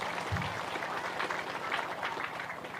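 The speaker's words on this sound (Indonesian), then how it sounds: "tepuk tangan dulu" Audience applause at an Indonesian comedy show, a steady wash of clapping at moderate level for under three seconds, with a brief low thump near the start and no clear talk over it.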